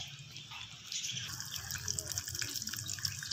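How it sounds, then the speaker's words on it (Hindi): Pumpkin pieces drop into hot oil in a pan while cooking pumpkin halwa, giving a steady frying sizzle and crackle that swells and holds throughout. "थोड़ा सा मैंने ऑयल लिया है, अब हम डालते हैं इसके अंदर कद्दू।"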